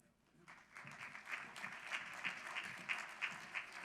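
An audience at an agricultural awards event for county honorees breaks into applause that builds from quiet to steady, moderately distant clapping with a few louder individual claps.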